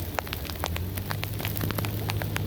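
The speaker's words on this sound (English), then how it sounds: "And it's really raining now." Rain falls steadily during outdoor lineman work on a power line, a dense hiss of scattered drops spattering on surfaces, with a faint hum running underneath.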